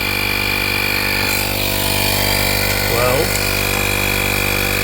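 An AstroAI digital tire inflator pumps air into a flat tire, making a constant, loud, buzzing motor drone throughout, with a brief voice heard under it.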